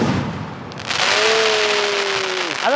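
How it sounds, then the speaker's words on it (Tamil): Rough and Tough aerial fireworks bursting in the sky during Deepavali: a burst of crackling hiss, then long whistling tones that hold steady, with a fresh whistle rising right at the end. "வானத்துல நீங்க விதவிதமா வாழா வெடிக்கணும் அப்படின்னா இந்த ரஃப் அண்ட் டஃப் வாங்கலாம்"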